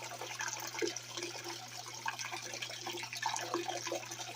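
Running water in a homemade mini gold washplant set up in a basement, a steady broadband rush and splash with a low mechanical hum underneath, continuous and fairly close throughout.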